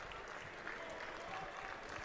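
A big crowd applauds at a junior boys' basketball grand final in Victoria, with dense, steady clapping heard from a distance throughout.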